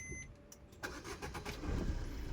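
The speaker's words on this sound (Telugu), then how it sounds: "ఇగ్నిషన్తో స్టార్ట్ చేసి చూపెడతాను సింగిల్ సెల్ఫ్లో స్టార్ట్ అవుతుంది వెహికల్" A 2013 Maruti Swift diesel car engine cranking briefly and catching on the first try, then settling into a low idle rumble after a short electronic beep, fairly quiet and close.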